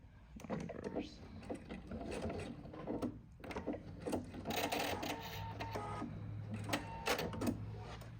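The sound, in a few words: sewing machine stitching a quilt binding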